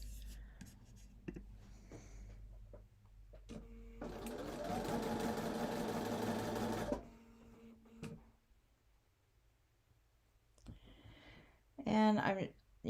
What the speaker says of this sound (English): And I sewed a few stitches in, and now I'm aligning that, keeping it straight as I go.